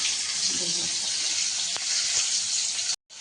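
Tomatoes fry in a pan for a pabda fish curry, giving a steady close sizzle and hiss with a couple of faint clicks. The sound cuts off abruptly near the end.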